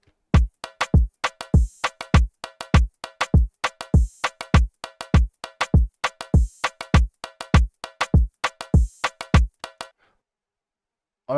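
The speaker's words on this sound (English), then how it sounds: "I added this percussions and the conga." Afrobeats drums built in FL Studio, with kick, snare and hats now joined by extra percussion and conga in a busy, syncopated groove, loud and upfront before stopping abruptly near the end, no voices.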